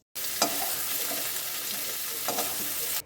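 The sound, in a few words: vegetables (radish, beans, onion stalks) frying and being stirred in pan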